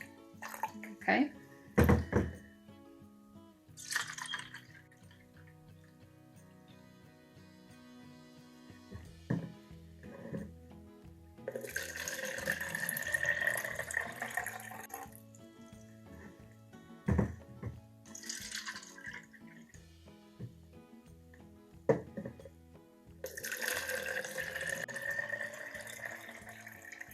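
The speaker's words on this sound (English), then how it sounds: "put 1 cup of water in each cup. So we're going to use our measuring cup to do so." Water poured from a measuring cup into three cups for a soap experiment, several separate splashing pours of a few seconds each, close and moderately loud, with a person talking between them.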